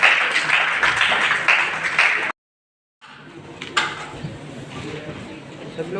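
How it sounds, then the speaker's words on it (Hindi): Audience applause at a memorial anniversary gathering in Darbhanga, Bihar: dense, steady clapping from a crowd that cuts off abruptly, then after a short silence resumes as a thinner, more scattered wash of claps. "उनके लिए जोरदार ताली बजाते रहे आप लोग"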